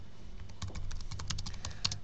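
Rapid keystrokes clatter on a computer keyboard, a quick irregular burst of close, crisp taps.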